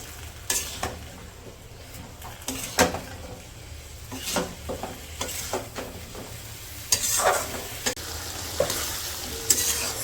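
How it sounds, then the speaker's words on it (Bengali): Broad beans and potatoes sautéing in a pan in a village kitchen, with a constant sizzle and repeated scraping stirs and clinks of a utensil against the pan, close and with no talk. "সিম আর আলুটা তো কিছুক্ষণ কষাই নিচ্ছি"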